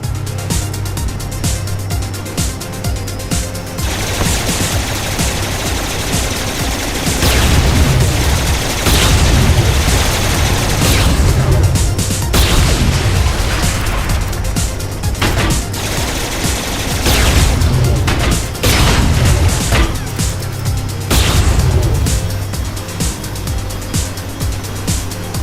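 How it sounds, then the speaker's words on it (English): Gunfire and explosions fill a Saints Row IV battle, with rapid bursts of automatic fire and heavy booming blasts repeating loud and close over a continuous rumbling backdrop. "That's a lot of firepower."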